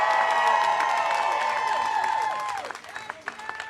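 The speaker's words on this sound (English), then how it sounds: "let's give them a big round of applause" A crowd at a Medicare for All event at the U.S. Capitol in Washington, DC applauds and cheers loudly with whoops and a shrill whistle-like tone, then the applause thins to scattered claps.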